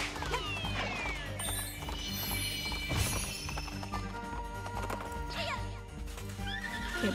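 Horse whinnies and clip-clopping hooves from the video game Princess Peach: Showtime!, ringing out over a busy, continuous game soundtrack with a sharp crash near the middle.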